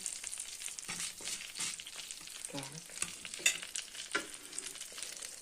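Butter sizzles in a frying pan with black mustard seeds, a steady crackling fry punctuated by stirring scrapes and occasional pops, close and moderately loud, with a brief spoken word.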